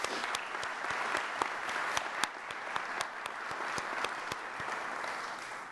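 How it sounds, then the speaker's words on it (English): Commencement ceremony crowd claps for two honored classmates, a full, even roll of many hands with a few crisp individual claps ringing out, steady and moderately distant. "Let's give them both a round of applause."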